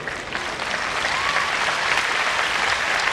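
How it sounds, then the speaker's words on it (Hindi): Audience applause at a Hindi poetry recital, a steady dense wash of clapping that holds at even loudness through the whole stretch with no voices over it. "इतनी तालियों से कविता आगे नहीं बढ़ेगी।"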